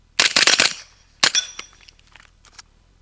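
A suppressed Colt SMG clone fires a fast burst of several shots at an 8-inch steel gong, the sharp ringing hits bunched close together, then a second short burst and a few faint trailing pings fading out.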